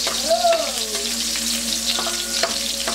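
Onions and garlic sautéing in a hot pan while a Filipino home cook makes ginisang puso ng saging, giving a steady close sizzle with faint scraping stirs and a tonal squeak early on.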